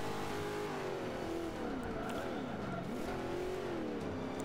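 A Chevelle race car engine in a racing video game revs and drops repeatedly in a continuous, steady drone, with no talk over it.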